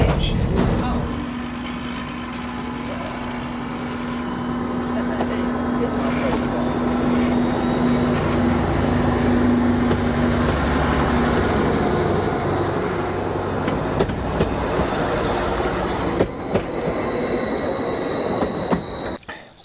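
Heard from inside a train approaching Berney Arms station: a steady rumbling roll with high, sustained wheel squeals and tonal whines as it slows, then clattering toward the end.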